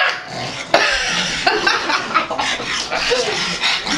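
A pug puppy yapping and barking in short, excited bursts, close by, with some light chuckling mixed in.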